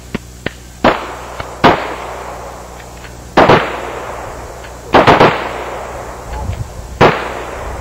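Handgun shots fired one at a time during firearms training, sharp loud cracks spaced irregularly across several seconds, with no talk.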